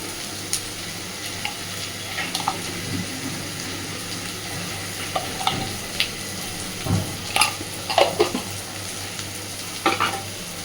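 Spice masala with garlic and hot chili powder fries in a pan, a low steady sizzle under scattered scraping stirs and clinks that grow busier toward the end, with no voices.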